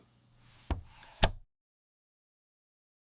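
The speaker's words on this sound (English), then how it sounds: "I am opening my laptop." A laptop is opened with two quiet, close clicks about half a second apart, followed by silence.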